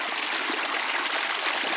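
A small stream flows over rocks into a pool, a steady close-up rush and trickle of running water with no other sounds.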